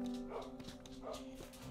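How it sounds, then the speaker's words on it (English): Several short barks from dogs in Minecraft at a distance, quiet and intermittent, over a steady low hum. "the dogs are barking."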